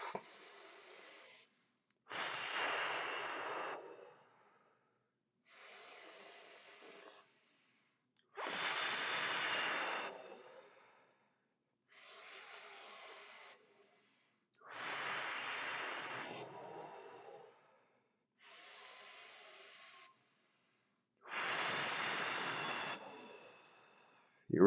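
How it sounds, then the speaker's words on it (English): Slow, deep yoga breathwork: eight long breaths, each a drawn-out airy rush lasting a couple of seconds, separated by short silences, close and fairly soft with no talking. "Breathe with me."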